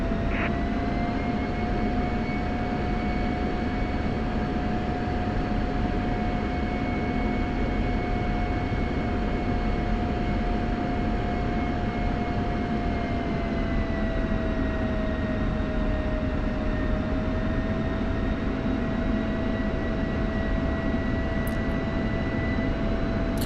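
An F-16 jet taxiing toward the run-up area in a flight simulator game, a steady loud engine whine and rumble with sustained tonal hum, constant and close, without talk.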